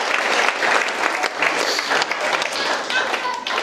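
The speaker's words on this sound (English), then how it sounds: "I think we have already clapped Amy for this, but I think it's just worth another one" Guests at wedding speeches give the bride Amy a round of applause, a steady, dense clapping that fills the room for the whole stretch without letting up.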